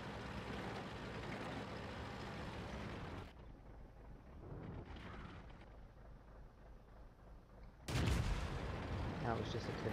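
A tank cannon fires in a tank video game: heavy, booming blasts open the stretch and a second loud report cuts in near the end, with quieter rumbling and muffled game sound between them.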